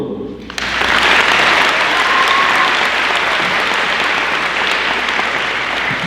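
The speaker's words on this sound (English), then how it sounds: "Let's give another big round of applause for these kids on the floor." A large crowd in a school gym at a Senior Signing Day event breaks into loud, sustained applause for graduating seniors on the floor, a dense wash of clapping holding steady for several seconds with a faint whistle mixed in.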